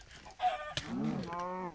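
A chicken in the video game Minecraft clucks a few times in quick succession, close and clear, with no talking over it.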